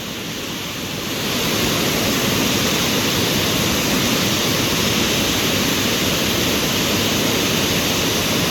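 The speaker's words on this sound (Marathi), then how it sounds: "धरणाच्या वरून पाणी वाहतंय पूर्णपणे पाणी वाहून जाते वरून" Water pours over the top of a full dam on a river in Ratnagiri, Konkan, swollen by very heavy monsoon rain, giving a loud, steady roar that swells in the first second and then holds unbroken, with no voices.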